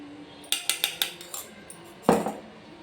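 Metal spoon clinks against a bowl while a spoonful of curd goes into a homemade face pack, a quick run of light taps, then one louder knock, close and without speech.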